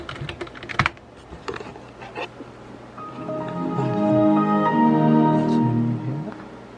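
Fingers type a password on a computer keyboard while rebuilding a Pentium 4 Gateway PC, a quick burst of close clicky keystrokes at first, then a rising low whir over the remaining seconds.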